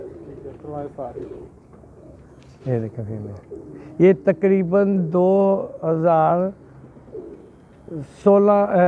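Pigeons coo softly and repeatedly in the background of a loft while someone talks through most of the stretch.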